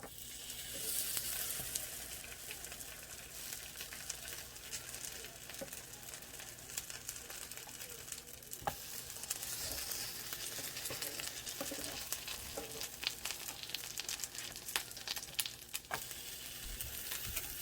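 Silver dollar pancakes with saskatoons sizzle softly in a pan, a continuous low frying hiss broken by scattered clicks and scrapes of a spatula as they are flipped, with no talk.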